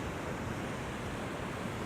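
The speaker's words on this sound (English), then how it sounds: "as the waves come in," Ocean waves rolling in against a small rock ledge at Sharpes Beach, heard as a steady, close, continuous wash of surf with no distinct breaks, alone without any voices.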